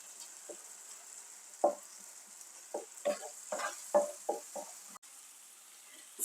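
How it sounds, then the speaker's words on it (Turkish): Tomato paste and tomatoes sautéing in a pan for Turkish şakşuka, quiet frying with a series of scraping stirs of a spoon in the pan, close and fairly faint, with no voices. "Salçamı domatesle güzelce kavurdum bir 2-3 dakika"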